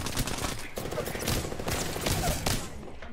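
Dense, rapid gunfire from Apex Legends weapons, loud and close, with volleys of shots overlapping almost continuously.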